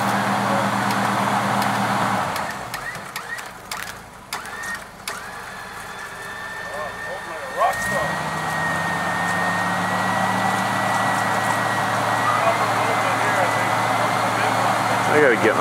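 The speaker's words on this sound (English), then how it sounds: "Here goes the winching." A newly fitted vehicle winch hauls under load in the outdoors, a steady motor whine holding a rising tone for several seconds, with a low mechanical drone beneath and occasional voices over it.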